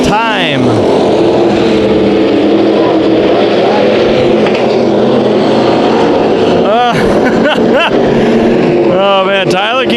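Race cars roar through a heat race at Bakersfield Speedway, a loud, continuous blend of engines with rising and falling passes close by, while a commentator talks over the noise throughout.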